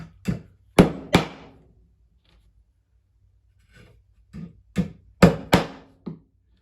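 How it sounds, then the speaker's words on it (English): A hammer drives siding nails into a wooden birdhouse with sharp, close strikes, three quick blows, then a pause, then a faint tap and a second run of five blows. "don't be afraid to just drive that nail in there anyway"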